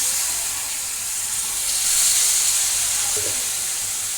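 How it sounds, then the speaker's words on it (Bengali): Water poured into a pan of spice mixture that has been fried down, setting off a steady close hiss and sizzle of steam that swells slightly midway and carries on alone without any talking. "তো কষানো হয়ে গেছে, এবার আমি জলটা দিয়ে দিলাম।"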